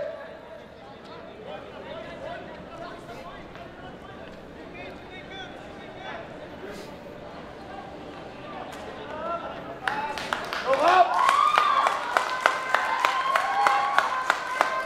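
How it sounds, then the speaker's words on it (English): A football crowd murmurs at a Copa Paulino Alcantara match between Don Bosco Garelli United and Philippine Air Force, swelling into scattered applause and cheering in the second half while a commentator talks over it. "Kung naririnig nyo ang ating crowd"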